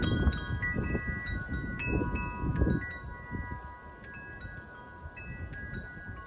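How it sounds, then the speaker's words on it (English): Low, gusty wind rumbles against the microphone in uneven surges, with faint high tones ringing over it. "but it's getting windy"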